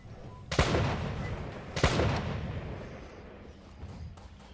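Two loud, close gunshots in a video game about a train monster, about a second apart, each followed by a rumbling decay, then a quieter echoing background.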